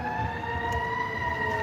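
A fire truck siren holds a steady, continuous tone at moderate loudness, with a low traffic rumble underneath and no breaks.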